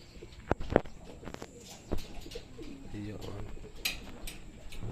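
Racing pigeons returning to the loft after a midtoss training toss, soft cooing and wing flutters with scattered thumps and footsteps nearby, under a voice talking.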